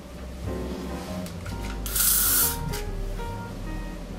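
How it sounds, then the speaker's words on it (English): Hairspray hisses out in one bright burst of about half a second, close and clear, over a quiet room hum while flyaways on a 1940s roll updo are being set. "so I'm just gonna give that a spray"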